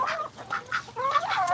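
Ducks and chickens on a farm during live chores, with several ducks quacking and honking in short overlapping bursts, close and moderately loud, no talking.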